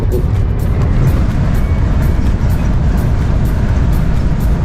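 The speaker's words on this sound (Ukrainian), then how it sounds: "Зараз я трошки приспущу вікно, просто щоб ви почули цей ураган" Loud, steady roaring wind from a strong windstorm buffets through an open car window, a constant heavy rush of air noise throughout.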